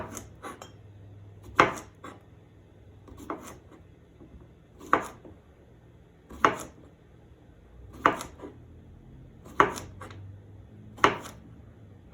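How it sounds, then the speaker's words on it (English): A knife chops through cucumber on a board at a steady, unhurried pace, each firm thunk followed by a few lighter cuts. "Again, we are chopping the cucumber."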